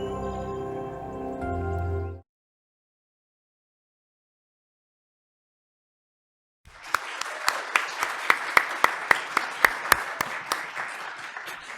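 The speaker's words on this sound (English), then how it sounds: "You don't have to clap after every movie." An audience bursts into applause after a film screening, with sharp individual claps standing out from a dense, continuous patter. The applause follows a brief stretch of tonal sound and several seconds of silence.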